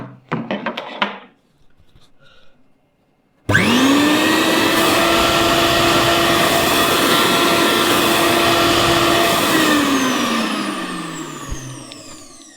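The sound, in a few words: Bosch TrueMixx Pro 1000 W mixer grinder running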